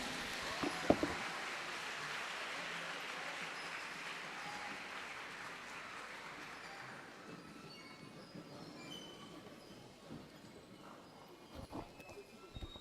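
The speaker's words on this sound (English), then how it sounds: "Stand up and give yourself a round of applause" An audience at a youth empowerment event claps in a sustained wash of applause that swells early, then slowly thins and fades, with a few sharper isolated claps and faint voices near the end.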